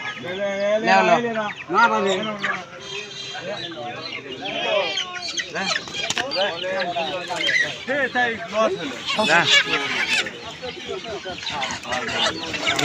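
Desi chickens cluck and squawk repeatedly at a busy live poultry market, close and loud, mixed with people talking and bargaining.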